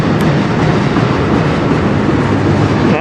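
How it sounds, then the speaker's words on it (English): CN freight train passing close in Sarnia, Ontario: a loud, continuous rumble of rolling cars with faint wheel clatter, no voices. "I know there's a few trains that are waiting to cross"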